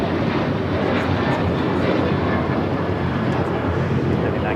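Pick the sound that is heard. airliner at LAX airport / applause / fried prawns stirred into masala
airliner at LAX airport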